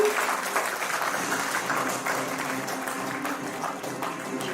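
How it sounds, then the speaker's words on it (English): Applause from an audience at a teachers' award ceremony, a dense steady clatter of many hands clapping that holds evenly from start to finish. "let's give him a huge round of applause to Dr. Sandeep Singh Khan"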